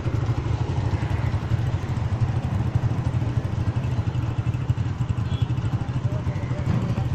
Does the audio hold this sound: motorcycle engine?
yes